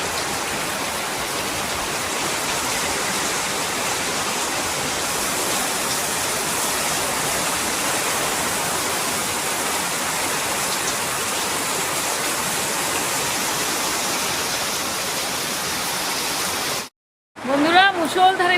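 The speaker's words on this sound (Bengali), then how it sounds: "কি বৃষ্টি পড়ছে দেখুন।" Heavy rain pours in a steady, loud, dense roar that continues without a break for most of the time, then cuts off briefly near the end.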